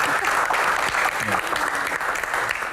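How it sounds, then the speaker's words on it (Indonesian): A live audience at an Indonesian talk show Q&A claps loudly and continuously throughout, in a dense, sustained round of applause with a voice faintly audible beneath it. "Tepuk tangan sekali lagi, luar biasa."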